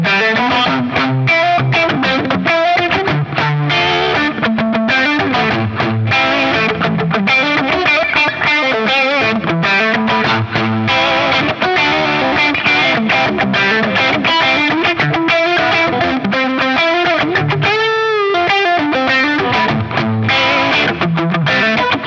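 Solo guitar with no backing band, strummed chords giving way to a wandering single-note lead line, played continuously at steady loudness with a distorted, effected tone.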